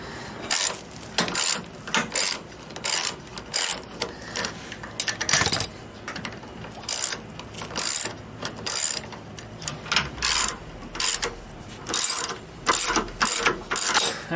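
A ratchet clicks in quick repeated bursts while suspension bolts are tightened on a rotten 1956 oval-window VW Beetle fitted with Porsche suspension, sharp metallic clatter in short runs with brief pauses between strokes, close by and alone.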